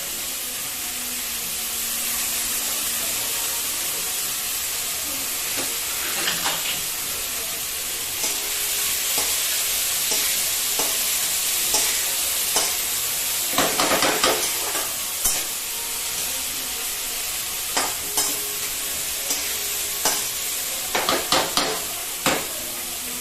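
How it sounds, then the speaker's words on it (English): Vegetables are stir-fried quickly in a pan, with a constant loud sizzle and hiss over repeated spatula scrapes and clicks that grow busier toward the end, close up. "Quickly stir fry them and remove them."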